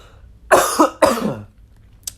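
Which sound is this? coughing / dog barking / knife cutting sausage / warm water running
coughing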